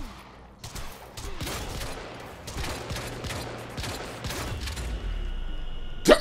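A full-auto shotgun fires in the video game Quantum Break, a rapid volley of booming shots in quick succession at close range, then a brief pause and one sharp final report.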